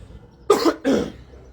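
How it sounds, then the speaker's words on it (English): Two quick, close throat-clearing coughs in succession, loud against a quiet background. "I just need to clear my throat"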